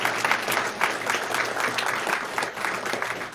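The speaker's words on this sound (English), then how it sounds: "So she deserves a round of applause for getting our community involved in kids." Dense audience applause in a city council meeting chamber, steady and fairly loud clapping throughout with no talking.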